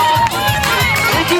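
Crowd cheering for competitor Nikita at the Arangul-batyr strongman event in 2012, a short burst of loud excited shouting and whistles with voices calling out.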